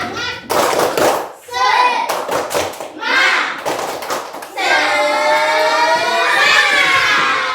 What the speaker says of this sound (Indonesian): Tepuk semangat lagi anak-anak.